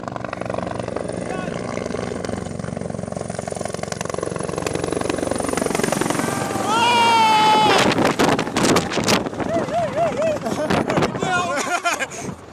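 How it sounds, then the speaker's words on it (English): A helicopter's steady engine and rotor drone runs loud and close beneath overlapping voices, with sharp clatter and rising whine-like tones partway through. "Yeah, this is the chopper."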